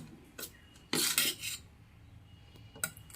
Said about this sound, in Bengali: ব্যাটারটাকে ভালো করে গুলিয়ে নিলাম